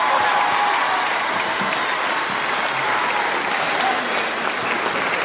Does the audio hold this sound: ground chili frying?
no